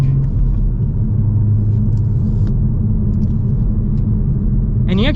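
A Toyota GR Supra with a manual gearbox and B58 engine pulls hard, a heavy low rumble with rising engine drone heard from inside the car, while a driver talks over it.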